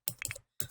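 Keys clatter on a computer keyboard as a cheat code is entered in The Sims: a quick run of clicky strokes, a short pause, then another burst of keypresses, close and fairly quiet.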